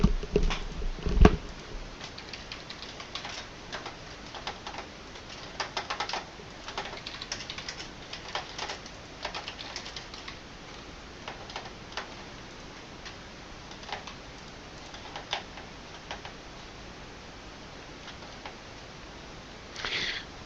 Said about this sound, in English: Some keyboard clicks as Jack clicks around trying to work out how to do something